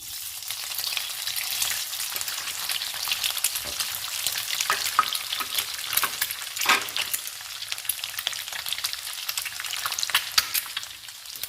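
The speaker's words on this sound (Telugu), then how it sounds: "ఆయిల్ వేడెక్కిందండి. గుడ్డు ముక్కలు వేస్తున్నాను." Pieces of boiled egg fry in hot oil in a pan, a dense continuous sizzle with crackles and occasional stirring scrapes, close and fairly loud.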